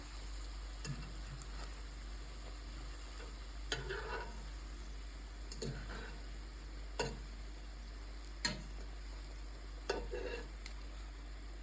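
Soft, steady sizzling of pancakes made with kefir batter frying in a pan, with occasional clinks and scrapes of a utensil every second or two.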